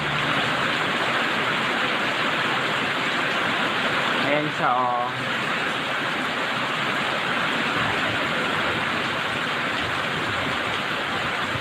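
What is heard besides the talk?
heavy rain easing off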